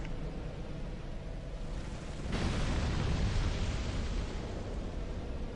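A dull, broad rumble of an explosion in the video game Dark Souls 2 swells suddenly partway through and holds as a loud noisy roar to the end.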